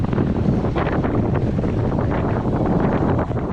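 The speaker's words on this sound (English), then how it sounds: "the wind that we've came in here to avoid is kicking off" Strong Mistral wind roars and buffets continuously around a sailboat on a mooring, a dense rushing noise with gusty surges, loud and close throughout.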